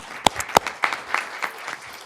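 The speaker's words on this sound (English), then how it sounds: "Let's give you a round of applause." Brief applause at a school board meeting, a small group clapping in a short scattered burst of separate claps that thin out and fade within two seconds.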